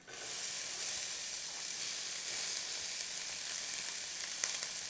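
Onions and garlic sizzle steadily in hot ghee in a pan, a dense, even frying hiss running throughout with no talking, for a Sri Lankan black pork curry.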